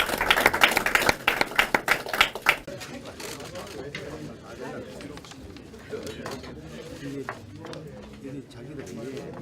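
Brief burst of clapping from a crowd encouraging lawmakers at a Korean political gathering, a few seconds of loud scattered claps that fade into murmuring room noise with talk.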